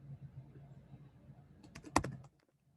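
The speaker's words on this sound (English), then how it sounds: "So I'm going to type" Computer keyboard typing while entering a campaign slogan on a branding slide: a short cluster of sharp key clicks near the end, after a low hum, then silence.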